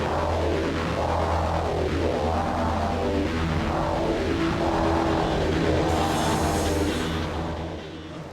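Race car engine from the video game Gran Turismo 3 A-Spec, a loud sustained roar rising and falling in repeated revving sweeps through gear changes, with a brief tire squeal near the end.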